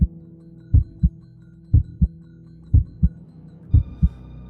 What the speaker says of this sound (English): just my heartbeat